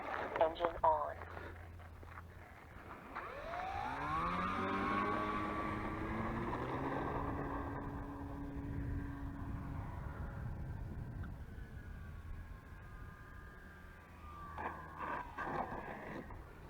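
A small engine on a home-built model airplane revs up with a rising harmonic whine, holds a steady buzzing drone, then fades. Voices are heard at the start and end.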